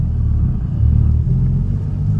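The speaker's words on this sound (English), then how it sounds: "I'm letting go of the clutch slowly, and I'm gonna gas it while letting go of the clutch" A manual-transmission car pulls away from a stop as the clutch is let out and throttle is applied, giving a steady low engine rumble that swells slightly, heard from inside the cabin with no talk.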